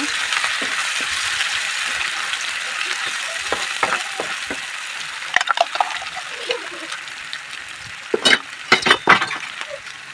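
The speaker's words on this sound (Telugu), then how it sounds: "ఇంకా ఇది బాగా ఫ్రై చేసుకోవాలి పేస్ట్ని పచ్చి వాసన లేకుండా బాగా ఉడికించుకోవాలన్నమాట" Masala paste for a dhaba-style paneer curry sizzles steadily in oil while a spoon scrapes and stirs through it, with sharper clattering stirs clustering near the end; no one talks.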